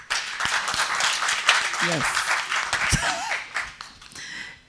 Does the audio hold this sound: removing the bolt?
no